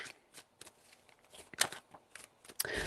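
Tarot cards being shuffled by hand during a reading, a soft papery riffling with sharper snaps and flicks, close and fairly quiet with no talking.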